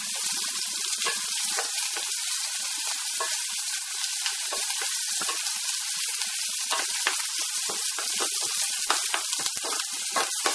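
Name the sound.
curry leaves sizzling in hot oil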